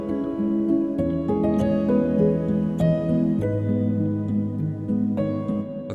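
Soft, reverberant piano built in GarageBand from a Splice instrument with four TDR Nova equalizers and Valhalla Supermassive reverb, in a lo-fi style; gentle chords and single notes drift into a long wash of reverb, with no voices.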